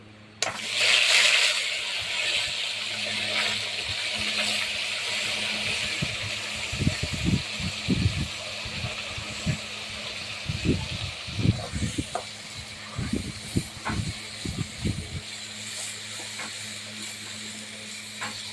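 Masala spice paste goes into a hot pan of oil with cardamom, cinnamon, cloves, dried chillies and bay leaves on a large stove, starting with a loud burst of hiss and settling into a steady sizzle. Clattering stirring scrapes come in bursts.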